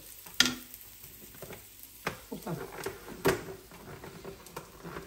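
Boiled, drained mushrooms sauté with salt in a pan for a vegetable couscous, with soft sizzling and scattered clicks and scrapes of stirring, close and fairly quiet.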